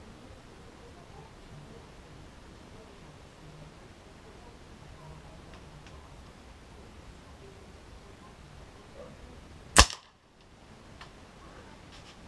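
A Black OPS Sniper Tactical air rifle fires a Cro-Magnum pellet in a single sharp, loud crack after a stretch of quiet outdoor ambience.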